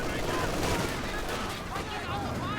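Rapid MG42 machine gun fire from the Company of Heroes 2 video game rattles dense and continuous alongside other battle gunfire, with a commentator's voice over it.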